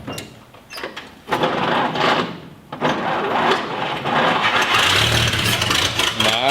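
A 1959 Chevrolet Apache pickup, left sitting for 40 years, cranks in short bursts before its engine catches and roars into loud, rough running, close to the microphone.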